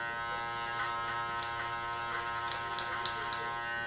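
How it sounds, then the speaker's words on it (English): A Suprent Pro Black Obsidian electric hair clipper buzzes steadily at close range while cutting hair, its hum rising slightly as the blades pass through in short strokes. "this clipper is just passing right through there"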